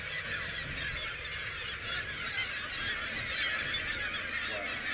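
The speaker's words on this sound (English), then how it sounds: "I have truly never seen this amount of seagulls in one place in my life." A large colony of seagulls nesting on an island in Alaska: a dense, continuous wash of overlapping calls, steady and moderately distant, with no voices.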